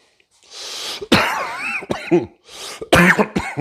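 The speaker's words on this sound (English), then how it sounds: "sorry for the cough" Several harsh, wet coughs come in quick bursts, close up, separated by short pauses, with no talking.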